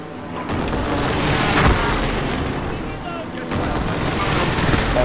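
Loud booming air strike blasts in Call of Duty: Modern Warfare, heavy rumbling bursts with rapid gunfire crackle through the whole stretch, a sharp impact near the middle, voices faintly under the din.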